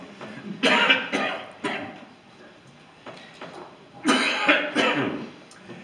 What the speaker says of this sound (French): Je vais tousser, alors vous inquiétez pas.